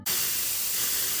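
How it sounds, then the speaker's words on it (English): A steady, close hiss of an aerosol spray can used as a shaker, starting abruptly and holding level for about a second. "hairspray shakers,"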